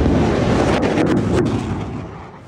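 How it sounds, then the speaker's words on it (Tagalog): A rocket launched from a US Army HIMARS launcher at a coastal military exercise in Rizal, Palawan, gives a loud, sustained roaring rumble that slowly fades, with wind buffeting the microphone and no talking. "ang pinaputok na rocket mula sa High Mobility Artillery Rocket System o HIMARS ng US Army"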